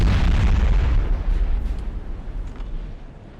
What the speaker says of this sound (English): Oh, the canister definitely is going to ruin that.